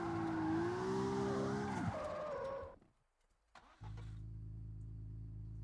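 A car engine in a driving video game revs, stalls and dies into near silence, then starts back up by itself and settles into a steady, low idle.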